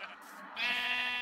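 Minecraft sheep give a short, nasal bleat in a sheep farm. A second, longer wavering bleat follows close and loud.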